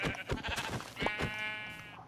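Sheep bleat in Minecraft: a clear, wavering baa rises after a few quick clicking sounds and holds for about a second, close and moderately loud with no talking.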